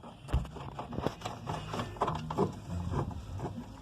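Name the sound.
screw being fastened on washing machine transmission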